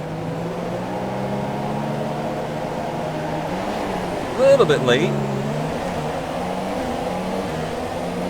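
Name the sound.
F1 car engine revving at race start in F1 2017 video game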